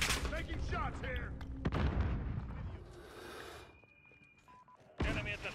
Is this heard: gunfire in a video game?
yes